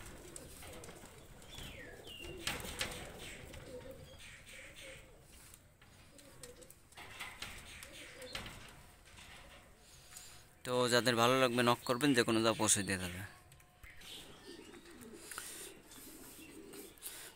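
Kasuri pigeons coo softly in the background while someone talks over them for most of the time, with a brief louder burst of sound partway through.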